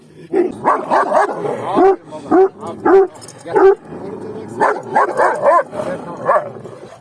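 Presa Canario dog named Zeus barks and yips in repeated close bursts, with another dog, Barut, nearby; people talk between and over the barks.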